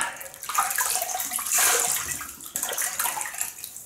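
Hot water runs from a tap for wetting the face before a shave, a close, steady hiss and splash that rises and dips as hands move through the stream, with no talking.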